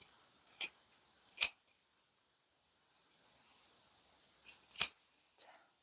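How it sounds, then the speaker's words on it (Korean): Scissors snip through a single layer of fabric while a single-welt pocket is being made, two quick close cuts, a pause, then two more, in an otherwise quiet room. "가위로 이렇게 다 잘랐습니다."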